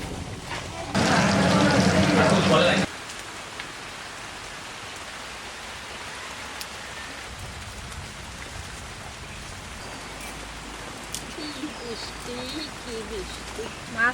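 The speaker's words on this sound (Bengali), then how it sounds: "এই সকাল থেকে দেখেন কি বৃষ্টি ওইটা লাগছে।" Steady rain falls through the morning, a continuous broadband hiss with a louder, denser downpour burst in the first few seconds before settling into an even, moderate patter.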